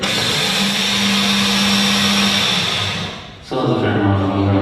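An electric blender grinds seeds into flour, a loud steady motor whir with the pitch shifting partway through as the load changes, briefly dipping before running on hard, alone without voices.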